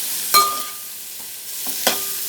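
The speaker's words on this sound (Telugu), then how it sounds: "వేసుకుని వీటినన్నిటిని బాగా ఫ్రై చేసుకోవాలి." Grated cabbage and carrot fry in a pan for egg fried rice, with a steady close sizzle and two sharp clinks of a spatula against the pan plus a few softer scrapes.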